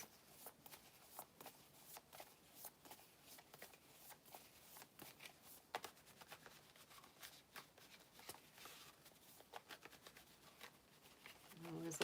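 Tarot cards are shuffled repeatedly up close, quick riffling bursts and soft slaps in an uneven rhythm, fairly quiet, ending with a faint voice.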